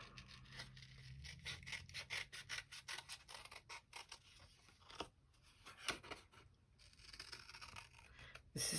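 Scissors snip repeatedly around manila cardstock in quick, close, crisp cuts with a steady rhythm, a few louder crunches and paper rustles, and no talking.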